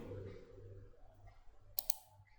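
Mouse clicks on an IIFL Trader terminal dashboard, a quick pair of sharp, close clicks near the end over a quiet low hum.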